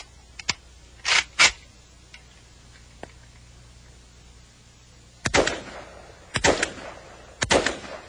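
Single shots from a semi-automatic firearm, one round per trigger pull: sharp loud reports with clear gaps between them, a pair early on and a spaced series of three or more cracks near the end, each followed by a short ringing tail.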